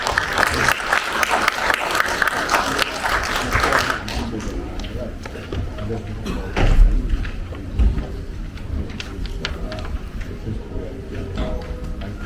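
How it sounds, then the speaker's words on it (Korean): An audience at a city briefing session in Yangju applauds to welcome the mayor, a burst of clapping for about four seconds that gives way to scattered thumps, taps and room noise. "큰 박수로 부탁드리겠습니다"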